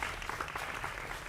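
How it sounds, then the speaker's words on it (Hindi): Studio audience applause welcoming a guest onto a televised debate show, a brief burst of dense, steady clapping from a crowd. "जोरदार तालियों के साथ स्वागत करिए प्रदीप भंडारी का"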